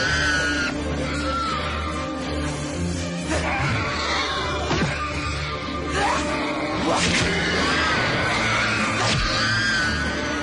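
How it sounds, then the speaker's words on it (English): Harsh, warbling film creature screeches, like velociraptor chimpanzees, rise and fall repeatedly over a dense, rumbling background, loud and overlapping like agitated animals. "They sound like Velociraptor chimpanzees."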